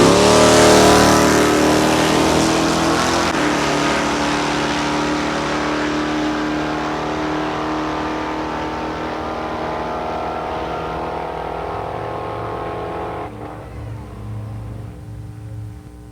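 A 1969 Camaro and rival drag cars launch down the strip at National Trail Raceways, engines roaring loud and sustained for many seconds, then fading slightly as they pull away.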